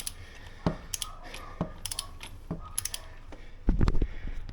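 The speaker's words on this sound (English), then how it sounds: "because it's a cheapy torque wrench, you can undo" A torque wrench undoing a bolt on a VF Commodore V6, close and fairly quiet: bursts of rapid ratcheting clicks separated by pauses, ending in a louder metallic clatter.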